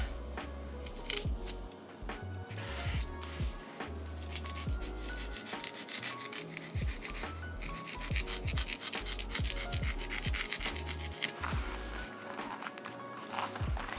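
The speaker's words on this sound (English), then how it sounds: "Let's shave the sides to make them angled." A small blade shaves and scrapes the paper edges of a handmade miniature Barbie book made from trash, close, quiet rubbing and scraping strokes in an irregular rhythm throughout.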